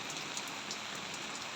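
Steady rain hisses evenly and continuously, a dense wash of drops with no pauses, heard from nearby during stormy typhoon weather.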